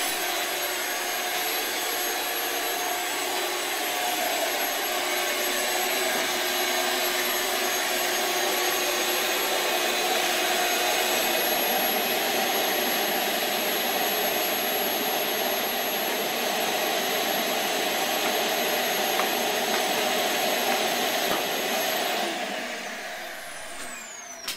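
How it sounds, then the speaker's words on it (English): A vacuum cleaner runs steadily with a loud, high-pitched whine and airy roar, holding constant before cutting off near the end. "I just attach the vacuum with this attachment"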